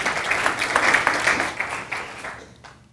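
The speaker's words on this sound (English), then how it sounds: "Little clap there" Brief audience clapping at a tech conference talk: a moderate burst of applause that swells, then tapers off and fades within a few seconds.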